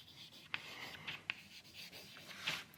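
A pen writing by hand on paper during a French geometry lesson, soft scratching strokes with a few sharper taps, faint and close with no talking.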